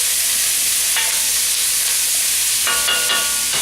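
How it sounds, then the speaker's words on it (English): Vegetables browning in oil in a pot, a continuous loud sizzle and hiss with occasional brief stirring scrapes. "we're just going to brown our vegetables right in our pot here with our oil"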